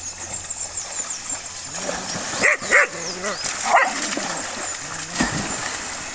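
A dog beside a rising, flooding river gives a few short barks and yips over steady rushing water, fairly close, with no clear talk.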